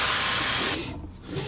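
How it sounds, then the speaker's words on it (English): A close, loud hiss of an aerosol can spraying in one sustained burst that stops partway through, leaving quiet room tone. "I'm gonna spray something before I pass out."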